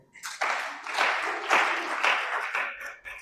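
A church congregation claps in a burst of applause lasting a few seconds, close and lively, swelling and fading in waves before trailing off.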